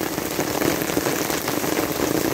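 Steady rain falls in Acatlán de Osorio, Puebla, Mexico, during a sunny shower, a dense, even hiss of drops on surfaces, close and continuous with no talking.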